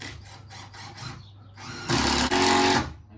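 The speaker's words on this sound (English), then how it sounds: "drill through your beam" A drill driver boring through a wooden beam, heard as a series of short whirring bursts and then a louder, sustained grinding spell of about a second that cuts off abruptly.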